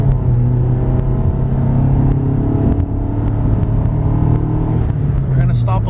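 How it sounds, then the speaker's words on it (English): A 2004 Toyota Highlander Base FWD pulls uphill at about 80% throttle in a 0 to 60 run, its engine drone steady and loud inside the cabin, with a brief dip near the middle and a person talking over it. "here we'll do a 0 to 60 acceleration run going up this hill"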